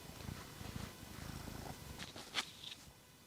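Black tabby cat Oolong purring softly and steadily up close, a low continuous rumble with a brief brighter rustle partway through.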